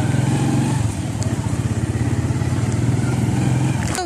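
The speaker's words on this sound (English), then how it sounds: "getting on a motorbike" Motorbike ride, a close, loud engine putter with a rhythmic pulsing beat that drops and then steadies, a brief revving at the start and no talk.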